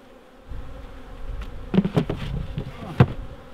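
Honey bees buzzing in an opened hive box during an inspection, a close, continuous droning hum that swells with a few louder passes of individual bees near the microphone, with no talk.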